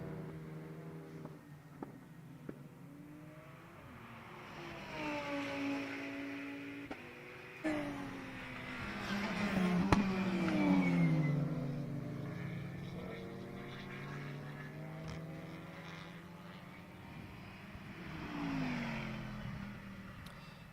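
Race cars at the Parnu Summer Race endurance event in 2023 pass at a distance. Faint engines rise and fall in pitch sweeps as cars accelerate and brake, with a louder passing swell near the middle.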